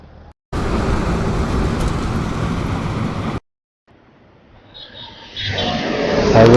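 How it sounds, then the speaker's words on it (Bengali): Traffic on a highway near the Kolaghat bridge on the route to Mandarmani: a loud, steady roar of a passing vehicle, a sudden gap, then another vehicle's rising whoosh as it approaches close by. "পরপর গাড়ি আর বাইকগুলো চলে যাচ্ছে।"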